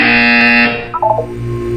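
A loud, harsh electronic buzzer from the video game Portal 2 blares for under a second, then stops, followed by a brief quieter warbling electronic blip.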